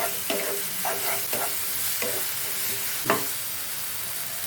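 Ginger garlic paste and pepper powder fry in a pan for chicken curry, a loud steady sizzle with a handful of spatula scrapes spaced about a second apart.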